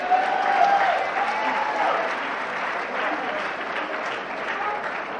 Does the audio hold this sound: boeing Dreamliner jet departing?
no